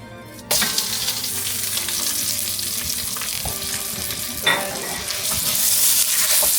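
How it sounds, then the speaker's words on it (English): Italian sausage browning in bacon grease in a pan, a steady close sizzle that starts abruptly and holds, with an occasional scrape of a utensil and no talking. "Then we're going to brown this meat, the Italian sausage"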